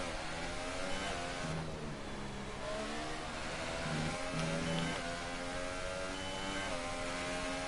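Formula 1 race car engines in the F1 2019 video game during a league race, several high-pitched engines wailing and shifting pitch continuously as the cars rev and accelerate, loud and constant throughout.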